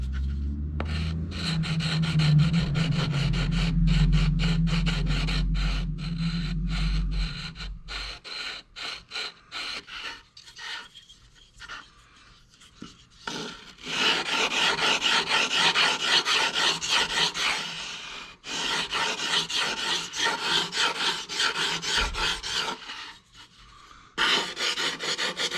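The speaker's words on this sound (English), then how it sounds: "to put a little bit of chamfer all around it, just so it doesn't feel sharp." A hand file rasps along the edge of a wooden archtop guitar pickguard, cutting a chamfer in steady back-and-forth strokes, close and loud, with a few brief pauses between bursts of filing.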